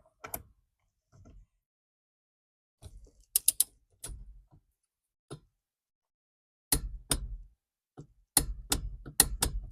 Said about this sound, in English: So we're going to torque this one on here, put everything back together